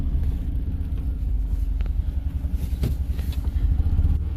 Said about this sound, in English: we're out driving the Isetta